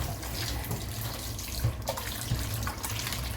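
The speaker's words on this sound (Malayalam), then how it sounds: "അപ്പം നമുക്ക് ഫിൽറ്റർ വെള്ളം ഉപയോഗിച്ച് കഴുകാം" Cold filtered tap water running steadily into a sink while camel fat is rinsed under it, with occasional splashes and handling knocks close by.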